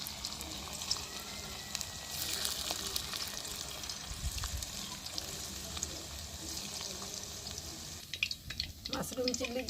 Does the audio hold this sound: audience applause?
no